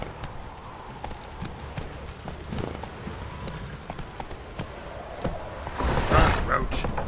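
Roach, Geralt's horse in The Witcher 3, gallops in a steady clip-clop rhythm of hooves, moderately loud, under a soft background bed with a brief louder burst near the end.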